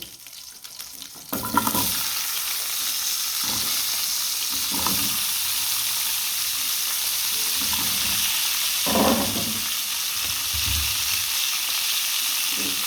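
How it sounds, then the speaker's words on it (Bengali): Capsicum, carrot, yardlong beans and papaya frying in hot oil for a chicken vegetable stew, a continuous loud sizzle after a short quieter start, broken by several scraping stirs of the pan. "এই তেলে এখন আমি ক্যাপসিকাম, গাজর, বরবটি, পেঁপে একটু হালকা করে ভেজে নেব।"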